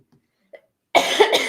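A woman gives a short burst of two or three close, harsh coughs after a moment of near silence.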